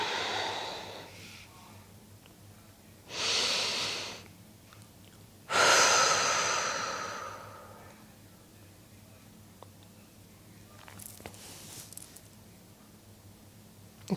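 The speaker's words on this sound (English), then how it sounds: "Bring a few deep breaths." Deep, slow breaths taken during a guided meditation, three long airy inhale-exhale swells spaced a few seconds apart, close and soft over a quiet low hum.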